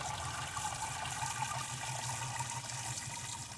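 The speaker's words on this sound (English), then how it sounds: "you pour it in, because you don't want to lose none of it" Water mixed with a cup of plain Epsom salt poured into a quarter-full bucket, a steady trickling gush that runs continuously for a few seconds, close and soft, with no talking.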